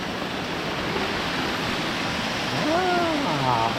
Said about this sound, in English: Is that the waterfall?